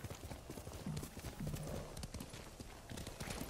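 Horse galloping in the video game Ghost of Tsushima, a rapid continuous clip-clop of hooves close and loud throughout, with faint ambient game sound beneath.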